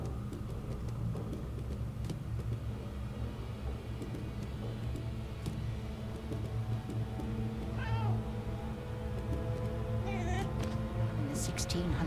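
A cat meows several times in the detective video game Murdered: Soul Suspect, rising, wavering cries heard over a steady low rumble of ambient game noise and a voice talking.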